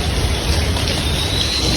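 Heavy monsoon rain pours down on a street in Junagadh, a dense, steady hiss of falling water, close and unbroken, with no talk.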